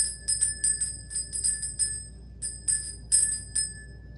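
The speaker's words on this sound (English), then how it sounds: "I'm going to go ahead and ring the bell to cleanse the space" A small bell is rung repeatedly to cleanse a room, about a dozen clear, ringing strikes in uneven bursts, each leaving a short shimmering tone, close to the microphone with nothing else heard.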